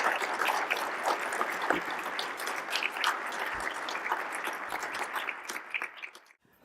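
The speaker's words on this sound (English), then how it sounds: "please give Congresswoman Norton a big round of applause" An audience applauds for Congresswoman Eleanor Holmes Norton, moderate clapping from a crowd held steady for about six seconds before fading out quickly at the end.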